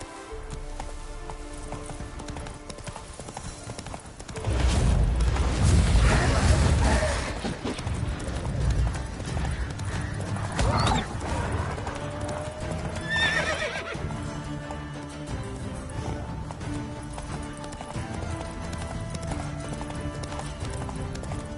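Roach, a horse in The Witcher 3: Wild Hunt, gallops with rapid clip-clop hoofbeats and lets out a loud neigh partway through, over a constant game ambience that lasts the whole stretch.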